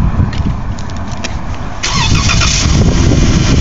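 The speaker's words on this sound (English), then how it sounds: "Car starts." A Dodge Grand Caravan engine starts via remote start, cranking briefly and catching, then settling into a loud, close running idle.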